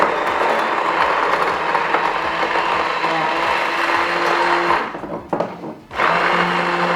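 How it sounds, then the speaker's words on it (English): A hand blender whirs steadily through a thick chocolate hazelnut mixture, its motor droning loudly, then briefly cuts out and starts up again near the end. "I'm going to use a hand blender today."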